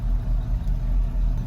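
A 1934 Chevy hot rod utility with a radiator overheating problem, heard from inside while driving, its engine giving a low, steady rumble with road noise and no talking.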